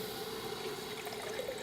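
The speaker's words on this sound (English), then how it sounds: "I'll just add a bunch of water and really get all of that" Water poured into a pot holding Thai curry paste for a southern Thai sour curry, a steady close rushing splash throughout.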